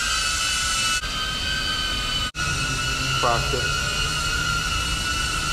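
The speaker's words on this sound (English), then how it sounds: "this Avata drone is really like loud, especially indoor." A DJI Avata drone flies indoors in a parking garage, its propellers giving a loud, steady high-pitched whine that fills the space, with a brief dropout midway and a voice speaking a word over it.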